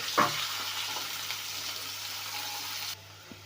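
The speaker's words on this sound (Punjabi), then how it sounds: "ਇੱਕ ਬਰੀਕ ਕੱਟਿਆ ਹੋਇਆ ਪਿਆਜ਼ ਤੇ ਇਹਨੂੰ ਚੰਗੀ ਤਰ੍ਹਾਂ ਭੁੰਨ ਲੂੰਗੇ" Finely chopped onion fries in a pan for a palak paneer kofta curry, making a soft, even sizzle after a brief clink at the start, then cutting off near the end.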